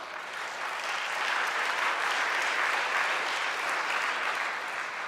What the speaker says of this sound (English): We applaud you because this is why we're doing this.